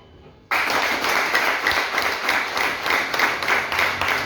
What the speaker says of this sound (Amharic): እስቲ ወንዶች አጨብጭቡ።